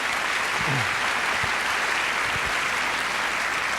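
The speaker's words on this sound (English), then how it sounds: "let's give them one last round of applause" Steady audience applause at a 2018 convocation ceremony fills the whole stretch, a dense, even wash of many hands clapping with a few low thumps underneath and no speech.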